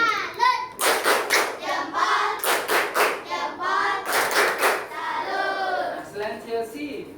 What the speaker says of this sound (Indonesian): Berikan tepuk tangan dulu buat Chelsea.